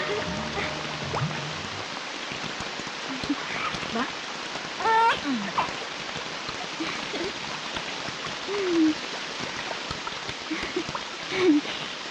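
Light rain patters steadily in the background, a gentle continuous hiss with a few faint tonal chirps rising over it.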